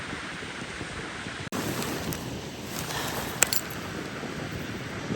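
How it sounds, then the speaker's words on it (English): Cold wind blows hard across a northern English beach, buffeting the microphone with steady low rumbling noise, with faint surf underneath and a couple of small bumps. "It's very cold wind blowing today, so if there are any wind noises, I apologise."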